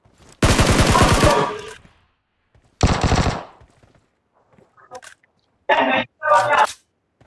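Shotgun fire in the mobile battle royale BGMI: a long loud blast, then a shorter shot, then two brief bursts, with loud excited chatter between and over them.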